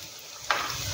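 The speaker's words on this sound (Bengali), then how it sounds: "এবার আস্তে আস্তে তোমার এগুলোকে একটু ধীরে ধীরে ভেজে নিতে হবে" Bottle gourd skin fritters frying slowly in oil give a continuous close sizzle, with a short sharper crackle midway through the brief moment.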